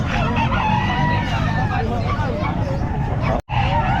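Roosters at the Calumpit pet market crow and cluck again and again over a steady crowd murmur and nearby chatter, with one brief drop to near silence near the end.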